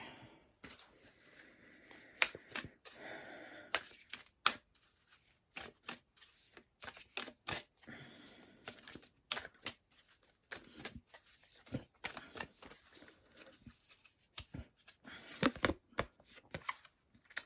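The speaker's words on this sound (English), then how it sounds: "I'm going to pull you a Moonology card." Tarot cards shuffled by hand give irregular bursts of crisp riffling and slaps, close and quiet, broken by short pauses over about seventeen seconds.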